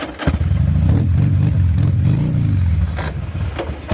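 A motorcycle engine being started up, then running and revving in loud bursts close by, with some mechanical clatter and scraping near the end.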